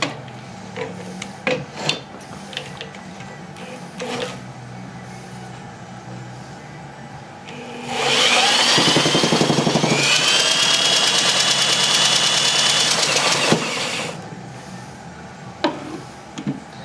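A Tecumseh H70 small engine with a compression gauge attached is spun over by a drill, a loud steady whirring and rasping run of about six seconds between quieter handling clicks and taps.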